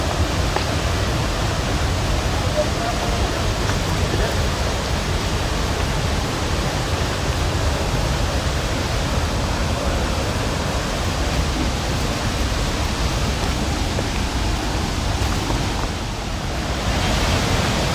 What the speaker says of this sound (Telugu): ఇప్పుడు వినండి డెవిస్ జలపాతం సవ్వడి